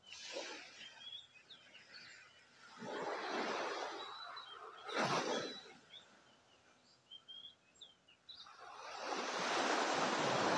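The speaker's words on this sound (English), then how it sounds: "just listening to the sound of the waves lapping on the beach just behind us here." Ocean waves lap onto a beach in Thailand, swelling in soft rushing surges every few seconds with gentle hissing wash between, while faint birds chirp in the background.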